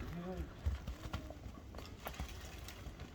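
Hooves of a kok-boru horse clop at a walk, fairly faint and irregular, with people talking over them.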